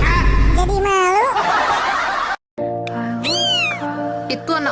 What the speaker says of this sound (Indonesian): Itu anak kucing. Kasihan banget.